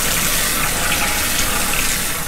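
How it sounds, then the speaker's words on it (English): Water runs steadily through the shower pipes of a motorhome while the fresh water system is flushed clean, a continuous close hissing gush with no break. "Do the same with the shower as well, run some through."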